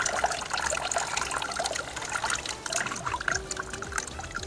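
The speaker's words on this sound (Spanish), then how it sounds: "Vean toda esta agua que se hubiera botado o más." Irrigation water trickles and splashes in a sunny garden, a steady bright patter of small drips running on throughout, with no voices.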